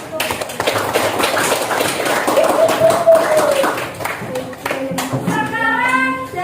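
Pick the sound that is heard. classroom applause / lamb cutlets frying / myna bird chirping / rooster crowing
classroom applause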